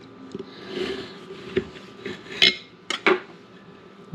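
A knife cuts into banana pudding stuffed gourmet cookies filled with white chocolate and banana moon pie, giving a few close scraping and crunching strokes with sharp clicks against a plate and no talk.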